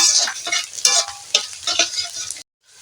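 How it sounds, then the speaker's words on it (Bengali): Onion, garlic and spice masala frying in a pan for bean-leaf paturi, a steady close sizzle broken by stirring scrapes that stops abruptly near the end. "মশলাটা পেঁয়াজ রসুন ভাজা ভাজা হয়ে গেছে"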